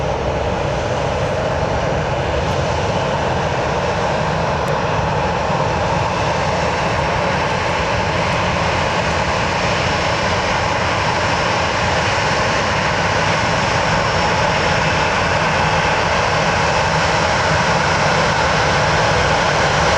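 An Emirates jet airliner landing on runway 33 at Birmingham Airport, its engines a loud, steady roar that holds unbroken for the full twenty seconds, close by, with no voices.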